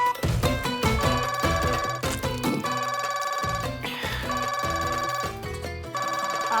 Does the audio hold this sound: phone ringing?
yes